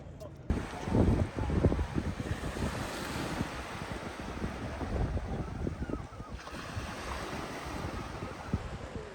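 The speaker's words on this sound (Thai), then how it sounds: "บรรยากาศที่เงียบสงบของทะเลในยามตอนแลงที่ตะวันตกดิน" Sea waves washing on the Folkestone seafront at sunset, a steady broadband rush of surf mixed with wind buffeting the microphone, continuous and fairly loud throughout.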